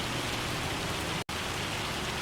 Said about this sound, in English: Shame about the hail